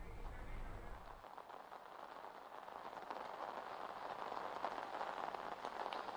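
Steady rain pours down in Ahmedabad, a dense, even hiss of drops on surfaces that continues without a break under a brief low rumble at the start.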